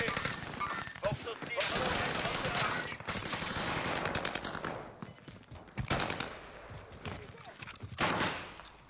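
Dense bursts of automatic gunfire crackle in a French battle royale match on the Resurgence mode, several sustained volleys broken by brief lulls, loud and close, with a player's voice partly under the shots.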